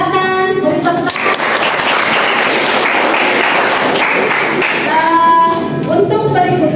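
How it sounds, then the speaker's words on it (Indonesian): Students in a classroom clap together for a classmate, a dense burst of applause from a group at close range, with voices layered over it, fading into speech near the end. "Silakan beri tepuk tangan."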